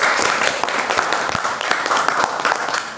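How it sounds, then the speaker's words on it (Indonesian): Primary school classroom applause for three student questioners, children clapping steadily and fairly close, with a few voices mixed in. "Tepuk tangan dulu untuk ketiga penanya"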